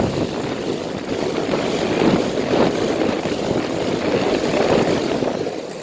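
A 2007 Nordyne 5-ton central air conditioner condenser with a rotary compressor runs outdoors, giving a steady, close, whooshing fan roar with a low hum beneath it.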